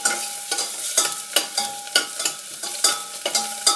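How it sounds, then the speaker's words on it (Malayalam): Garlic sautés in coconut oil in a pan for a Kerala-style chicken curry, with a spoon scraping and stirring in a quick, regular rhythm over a constant close sizzle. "വെളുത്തുള്ളി നന്നായി മൂത്ത് നല്ല മണം വരുന്നത് വരെ വഴറ്റി കൊടുക്കണം."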